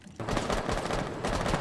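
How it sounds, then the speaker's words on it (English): Rapid, dense bursts of video game gunfire crackle almost nonstop after a brief quiet start, loud and close. "we have smoke, we have gunshots, shots fired"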